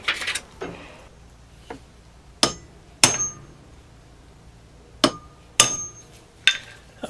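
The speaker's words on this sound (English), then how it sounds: "gotta get the old hammer after it." Metal hammer blows strike to drive a bearing out of a Hitachi miter saw, about seven sharp, ringing impacts at irregular intervals, close and loud with no talking.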